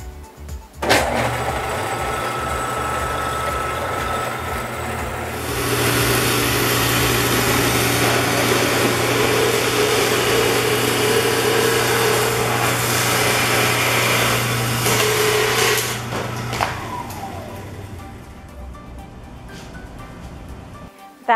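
A bandsaw with a steel-cutting blade slices a ski helmet of plastic shell and high-density foam in two: a steady loud grinding whine runs for about ten seconds after the motor spins up, then the blade winds down.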